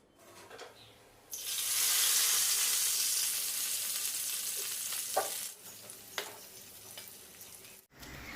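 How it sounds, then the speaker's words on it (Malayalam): Okra pieces dropped into hot oil break into a loud, steady sizzle that holds for several seconds and then eases, with a few clinks of a utensil stirring in the pan and no talk. "നമുക്ക് നല്ല ചൂടായിട്ടുള്ള എണ്ണയിലിട്ട് ഫ്രൈ ചെയ്തെടുക്കാം"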